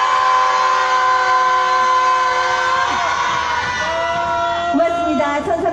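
A crowd at a weekly Wednesday protest rally lets out a sustained, loud unison shout lasting several seconds, wavering pitch dissolving into scattered voices toward the end.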